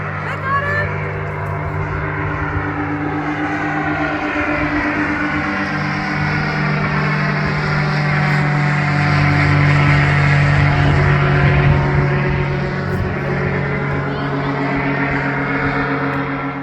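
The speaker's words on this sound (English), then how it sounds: "I don't know if that's an intentional flyby" A low aircraft flyby over the area hit by the McKinney fire: a loud, steady engine drone with strong tonal hum runs throughout, swelling slightly toward the middle as it passes close overhead.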